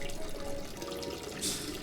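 A steady thin stream of liquid splashes into water as a character urinates in the horror game Fears To Fathom, a soft continuous trickle heard alone at low level.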